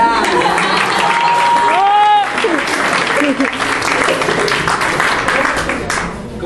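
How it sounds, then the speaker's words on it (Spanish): Audience applause for an actor after a Chilean school play: dense, loud clapping from a crowd that fills the whole stretch, with a voice speaking over it early on and some cheering mixed in. "Un aplauso para Fran."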